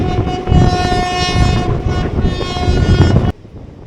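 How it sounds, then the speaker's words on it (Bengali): A train on the Katwa section rumbles steadily along the tracks with a loud, sustained horn-like tone over the roar, cutting off abruptly near the end. "আমাদের ট্রেনটা ঢুকে গেল এই দিক থেকে কাটোয়া সেকশন"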